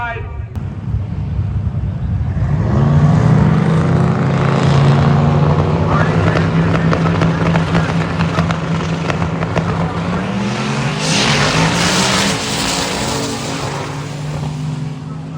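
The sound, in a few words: drag racing cars, Nash Rambler and 2001 Blazer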